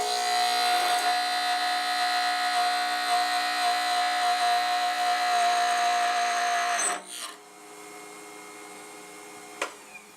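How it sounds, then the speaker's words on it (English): A lathe hums loudly and steadily while a roughing gouge turns a plastic pen blank, then the motor winds down to a lower drone with a brief tap near the end. "when I use a roughing gouge, I essentially am using one flute"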